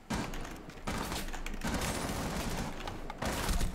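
Rapid bursts of gunfire crackle in quick succession, steady and loud, with short breaks between volleys, like an intense firefight in Rainbow Six Siege.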